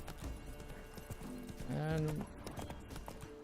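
Hooves of Roach the horse clopping in The Witcher 3 at a quick steady gait, close and rhythmic under someone talking, with a short tonal game sound rising briefly mid-clip.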